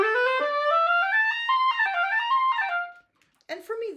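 Handmade double reed crowing on its own, a raw, buzzy tone with stepped pitches sliding up and down for about three seconds, then a brief pause and a short rough burst.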